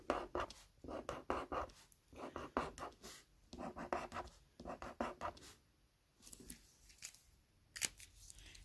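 Pen strokes drawing numbers for a hundreds, tens and ones math lesson, heard as quiet repeated scratchy bursts of writing in quick clusters with short pauses between them.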